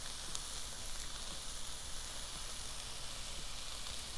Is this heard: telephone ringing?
no